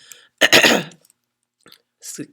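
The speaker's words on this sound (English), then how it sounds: "Excuse me as I cough here and clear my throat." A single close, harsh cough followed after a pause by a short throat clearing, with brief soft breathy sounds between.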